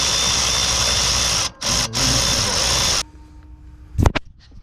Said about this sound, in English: So I got a little power ratchet here